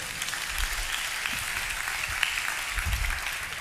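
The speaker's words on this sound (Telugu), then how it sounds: "చప్పట్లు కొడదాం గట్టిగా" A church congregation applauds during a Telugu pastor's sermon, a faint, steady patter of clapping sustained throughout.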